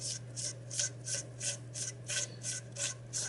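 A SilencerCo Spectre II suppressor is taken apart, with close, rhythmic metallic scraping and rasping in even strokes about every third of a second over a steady low hum.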